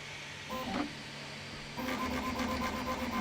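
A Qidi X-Plus 4 3D printer runs its nozzle cleaning routine: a steady mechanical whir with stepper-motor tones that shift in pitch and grow busier partway through, close and moderately loud.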